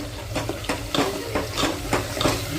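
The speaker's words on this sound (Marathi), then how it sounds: "हे राहिलेला मसाला आपण परतून घेऊया मस्त" Ground masala for a mutton curry is sautéed in a pan: rhythmic, close spatula strokes scrape the pot about every half second over a constant low sizzle of frying.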